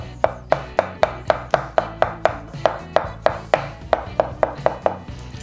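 Marinated mushrooms chopped with a knife on a board, a steady run of about twenty crisp, evenly spaced knocks heard close and loud with no talking.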